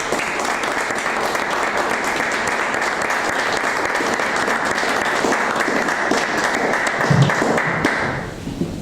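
Sustained audience applause fills the room after a conference lecture on pedagogical metaphors, dense steady clapping for about eight seconds before it fades out abruptly.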